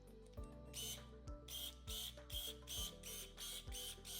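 A ProCraft ES16Li cordless pruner with a 16-volt battery is switched on, giving a string of sharp mechanical clicks and whirs in a quick regular rhythm, about eight pulses, close and quiet.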